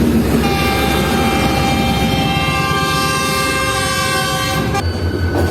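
An SLC locomotive rolls past on Indian railway tracks, a loud, close, continuous roar of engine and wheels with sustained tonal horn-like harmonics that cut off near the end, leaving a lower rumble.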